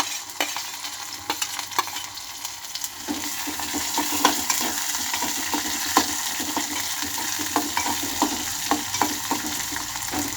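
Beans, carrot, curry leaves and tomato frying in a pan for vegetable upma, giving a steady close sizzle with scattered crackles and scraping stirs throughout and no voices.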